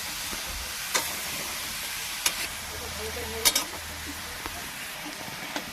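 Kakrol being stirred in a pan with green chilli, salt and turmeric, a soft continuous sizzle with a few sharp scrapes and clicks of the spoon spaced a second or so apart, close and fairly quiet.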